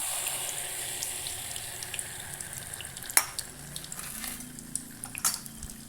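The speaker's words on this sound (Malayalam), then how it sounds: "നമുക്കിനി ഇതിലേക്ക് ആവശ്യമായിട്ടുള്ള മാവ് ഒഴിച്ചു കൊടുക്കാം" Batter is poured into hot oil and begins to fry, making a quiet, steady sizzle. A few sharp splashes and crackles stand out near the end, with no talking.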